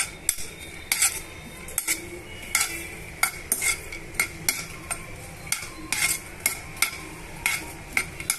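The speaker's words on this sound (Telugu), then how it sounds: "నెయ్యిలో వేసుకొని అటు ఇటు మిక్స్ చేసుకోవాలండి" Dry fruits frying in hot ghee as a spoon stirs them around a pan, giving a steady run of metallic scrapes and clinks over a faint sizzle, close and fairly loud.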